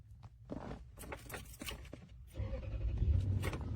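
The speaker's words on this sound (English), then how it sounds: "I'm going to start the car." A car engine starts after a few faint clicks and rustles, then settles into a low, steady idle rumble close by.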